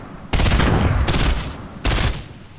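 Three loud bursts of rapid automatic gunfire from a Fortnite match, each a dense volley lasting roughly half a second to three-quarters of a second, separated by brief pauses, with no talking.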